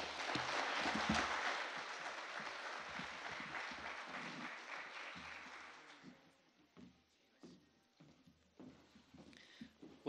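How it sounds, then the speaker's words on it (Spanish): Audience applause at a conference after a speaker on physical security of critical infrastructure is introduced: loud, dense clapping for about six seconds that thins into scattered claps and murmuring. "Recibámoslo con un fuerte aplauso."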